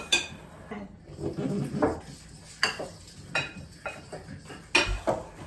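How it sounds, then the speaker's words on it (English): A spoon stirs a flour mixture in a bowl, knocking and scraping against its sides in uneven strokes, close by and with soft background noise. "each of you are going to take turns scooping the flour mixture into this, and I'm going to stir it."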